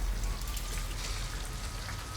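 Steady rainfall in Detroit: Become Human, a dense, even hiss of drops pattering on surfaces with a low rumble underneath, continuous and fairly loud with no talking.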